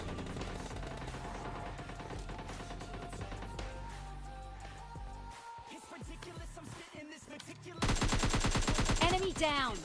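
Gunfire rings out in a first-person shooter video game, coming from the right side, with rapid bursts over dense game sound and music-like tones, turning louder and sharper near the end.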